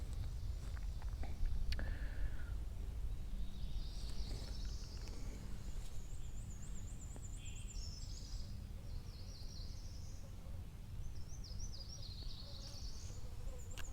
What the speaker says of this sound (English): Hear a lot of birds.